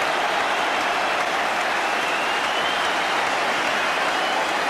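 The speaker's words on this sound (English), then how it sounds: "Thoroughly deserved applause for Peter Barnes" Applause from a football crowd for Peter Barnes at a Coventry City v Southampton match, a dense, even wash of clapping and crowd noise that stays loud and constant without a break.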